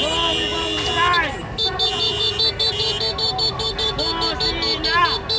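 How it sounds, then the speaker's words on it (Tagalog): Car horns honking repeatedly during a street motorcade in Metro Manila, rhythmic toots over crowd noise and engine rumble, with voices shouting through much of it. "Busina!"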